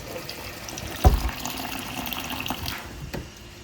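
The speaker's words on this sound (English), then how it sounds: "you'll just add water enough to cover the apples and cook them until they are rehydrated" Water poured into a pot over dried apples, a soft continuous splashing trickle with a brief louder gush near the start, close and fairly quiet.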